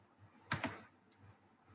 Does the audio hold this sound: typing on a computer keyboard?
yes